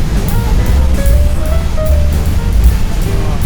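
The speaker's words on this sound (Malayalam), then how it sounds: "വെള്ളച്ചാട്ടത്തിനെ സമീപിച്ചു ഭയങ്കര ഒഴുക്കും" The Rhine Falls waterfall roars close by as a tour boat approaches it, a loud, continuous low rushing of churning water with no break.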